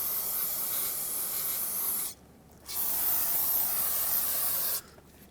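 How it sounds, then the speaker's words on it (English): Brake parts cleaner sprays from an aerosol can onto the front brake hose and line fitting of a 2004-2008 Ford F-150, two long steady hissing bursts with a short pause between them, close and fairly loud. "it's important that you clean everything with brake parts cleaner"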